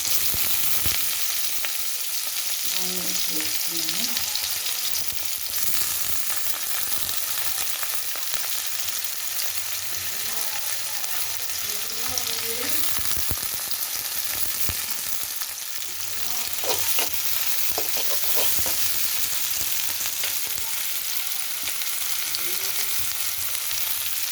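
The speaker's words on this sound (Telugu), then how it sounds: "పన్నీర్ కొంచెం లైట్గా దూరంగా వేయించుకున్నాం" Paneer frying lightly in oil in a pan, giving a steady, close sizzle that runs throughout with a few soft stirring scrapes and no talking.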